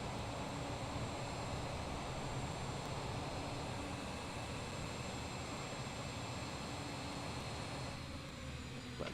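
Aircraft engine in Microsoft Flight Simulator, a steady broadband roar and hum running continuously at an even loudness, with no talking over it.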